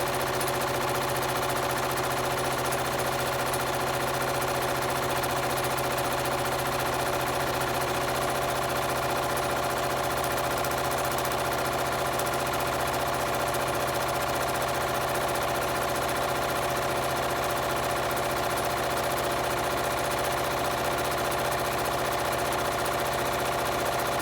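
Sewing machine stitching quilt strips together, a steady, close mechanical hum and rapid buzz that continues unbroken, with no speech.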